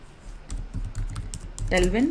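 Fingers type quickly on a computer keyboard to enter a web search for Tailwind CSS setup, with rapid close key clicks in an uneven rhythm while a voice talks over part of it.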